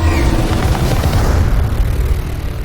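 Sci-fi weapons fire from a Star Trek Beyond trailer, a loud dense barrage of booming blasts and rumbling roar with no pauses throughout.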